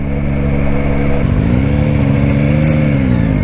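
A 2021 Yamaha Tracer 9 GT motorcycle engine pulls hard under acceleration, its loud, steady drone rising sharply in pitch partway through and carrying on strongly without any talk.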